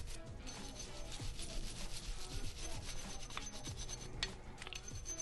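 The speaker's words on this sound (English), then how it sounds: "And then just continue to scrub that slide until you get all that carbon off." A nylon brush scrubbing carbon off the slide of a Sig Sauer P365 pistol, a steady, close, quiet rubbing and scratching with rapid back-and-forth strokes.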